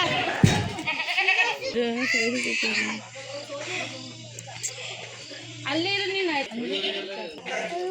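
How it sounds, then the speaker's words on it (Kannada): A goat being led away for sacrifice to Bhairava bleats repeatedly in wavering, nasal cries at close range, with people talking around it throughout. "ಅಜ್ಜಿ ಅವರು ಈಗ ಬೈರವಂಗೆ ಕಡಿಯೋ ಮೇಕೆ ತಗೊಬಿಡ್ತಾ ಇದ್ದಾರೆ."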